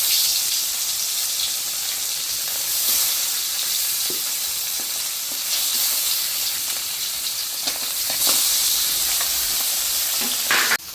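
Tapsi fish fry in hot oil, a dense continuous sizzle and hiss filling the pan with occasional pops and spatters, loud and close with no talking.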